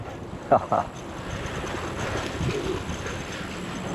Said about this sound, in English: See if we can get the pigeons going.